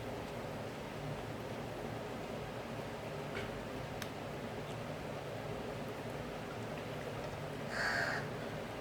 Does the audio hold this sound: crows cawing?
yes